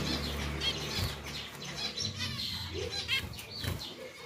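A pair of pied zebra finches flutter inside a cage, their wings giving repeated soft flapping bursts close by, with occasional faint chirps over a low background hum.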